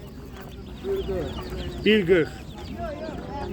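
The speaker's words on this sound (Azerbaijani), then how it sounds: "Ördək cücələri." Chirpy peeps and squeaky calls from young birds at close range, heard over a person talking and market chatter.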